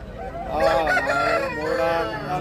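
An Erra Nemali rooster of about four kilograms crows at the Gudur rooster market, one long, loud, close call with a rising and falling pitch.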